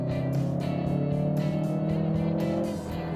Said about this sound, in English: Here the sound of the engine is not that high frequent like with the turbo petrol engine